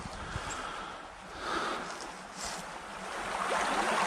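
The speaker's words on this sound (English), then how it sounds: "This is the stream that I slept by all night. Hearing that beautiful sound." A mountain stream flowing past a snowy winter campsite in the Catskills, giving a steady broadband rush of water that swells and eases slightly, fairly near, with no voices.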